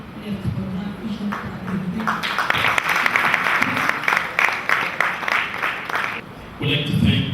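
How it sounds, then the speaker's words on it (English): Audience applause for debaters at a debate challenge final, a steady dense clapping that swells through the middle, dips briefly near the end, then resumes with murmuring voices. "please can you give them another round of applause?"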